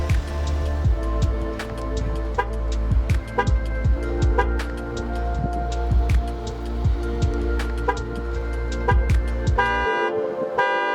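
A 2017 Chevy Equinox chirps its horn repeatedly during a remote test, sharp short toots scattered over a steady idling hum, which cuts out near the end.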